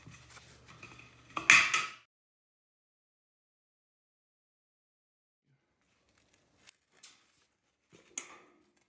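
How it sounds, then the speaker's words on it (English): Aviation snips bite through the flange of a steel stud: one loud, sharp metallic crunch, then a few faint clicks and snips after a quiet pause, close by with no talking. "Use aviation snippers to cut on either side of the flange, which is the side of the steel stud."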